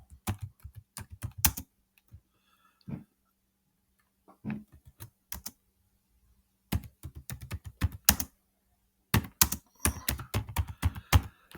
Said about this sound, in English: I'm going to type in there now.